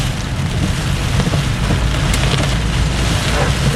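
Small hail falls during a July 2007 Florida thunderstorm, a loud continuous rush of precipitation peppered with sharp ticking impacts on hard surfaces.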